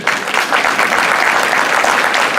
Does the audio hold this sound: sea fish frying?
no